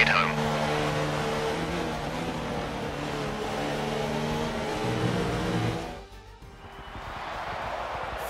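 A Ferrari Formula 1 car in F1 2019 rolls back toward parc fermé, its engine a steady droning hum with a brief shift before fading and returning more quietly; no talk.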